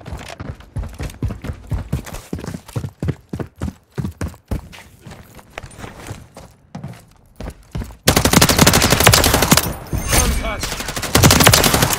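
Video game gunfire opens with rapid, loud bursts of close automatic shots in a choppy rhythm, then breaks into a dense, continuous barrage of heavy fire.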